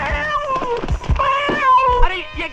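A cat meows in the 1988 Bollywood horror film Veerana, with drawn-out, wavering cries that rise and fall over a few seconds, loud and close, with a couple of dull thumps mixed in.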